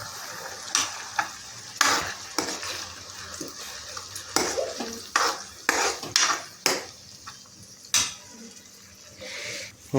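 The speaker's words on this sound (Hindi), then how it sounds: "अब इसमें डाल देंगे प्योरी टमाटर की और काजू, और इसमें थोड़ा सा पानी भी डाल देंगे।" Onion frying in a pan with tomato puree and cashews, stirred with a spoon in quick scraping strokes over a soft, steady sizzle, in a home kitchen while matar paneer is being made.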